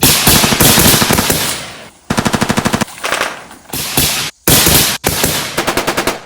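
Rapid bursts of automatic gunfire from a section of soldiers during a smoke-covered assault drill, loud and close, with dense volleys broken by brief pauses and sharp staccato runs.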